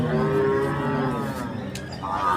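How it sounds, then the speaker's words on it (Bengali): A large Sylhet water buffalo at a livestock market gives a single long, deep moo close by, with no talk over it. "সবগুলো এগুলো সিলেট থেকে আসা মোষ"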